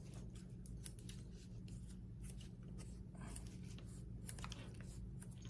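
Scissors snip around the edges of craft foam while a foam rose is made: steady, close, crisp cutting clicks over a low background hum, without talk.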